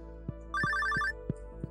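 A telephone rings in the Stardew Valley farming game, a short electronic trill burst over a soft, regular ticking pulse, heard alone and fairly quiet.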